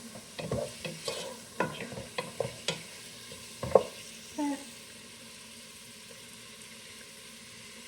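Chunks of beef being stirred in a pot for a stew, with a string of close scraping and sizzling knocks that fade into near silence in the second half.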